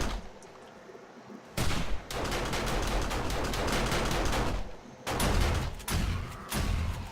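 Video game gunfire during a zombie horde night comes in dense, loud bursts of rapid shots, with brief pauses between volleys.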